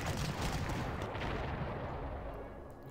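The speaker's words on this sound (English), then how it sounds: "We can hit them with artillery" Artillery fire in the WWII strategy game Panzer Corps, a loud, dense boom and rumble right from the start that holds steady and then tapers off gradually toward the end.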